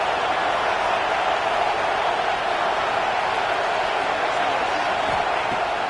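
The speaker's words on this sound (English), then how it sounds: "this crowd really affecting the football game" Dense, steady crowd roar from a football video game stadium, a loud continuous wash of cheering noise with no breaks, filling the whole stretch at constant level.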